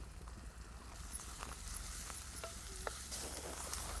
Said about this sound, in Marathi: टोमॅटो कांदा चांगलं परतलंय